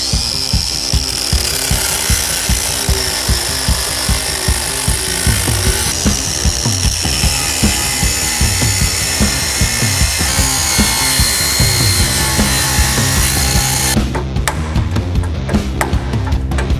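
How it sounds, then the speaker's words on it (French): An angle grinder cuts through a rusted exhaust nut on a Porsche 911, a loud continuous high-pitched whine and grinding rasp that holds for the whole stretch, very close, with the pitch shifting near the end as the disc bites. "on va prendre la disqueuse"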